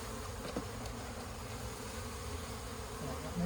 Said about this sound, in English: We need a half cup, 300 bees, which is about a half a cup of bees.